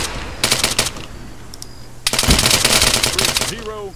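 Automatic gunfire in the military shooter ARMA 3 comes in two bursts, a short one early and a longer, denser stretch of rapid shots in the second half, with some background voice chatter.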